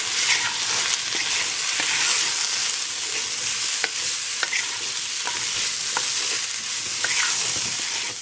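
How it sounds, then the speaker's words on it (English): Vegetables seasoned with salt and pepper sauteing in a pan on the stove for a vegan, gluten-free breakfast bake, giving a steady close sizzle with scattered stirring scrapes and light clicks throughout, no voices. "And then saute for a couple more minutes."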